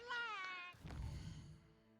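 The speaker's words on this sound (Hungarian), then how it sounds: "Jé, cica." A cat meows twice in the video game Hogwarts Legacy: a clear, near, drawn-out mew, then a second lower call that fades out.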